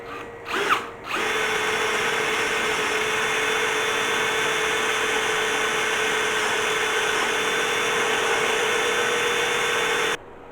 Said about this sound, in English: I'm just going to drill a hole top and bottom